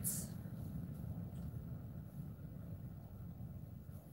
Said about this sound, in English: The wind was like insane. Like you can probably hear it, I bet.